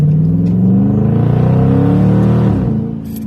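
A 2020 Dodge Charger ScatPack with a mid-muffler delete exhaust cruising, its deep V8 rumble droning steadily and loudly up close, dropping off slightly near the end with no talk.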